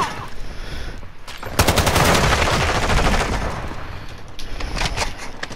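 Rapid automatic gunfire rattles loud and close in Call of Duty Modern Warfare 2, a sustained burst of about two seconds followed by scattered quieter shots.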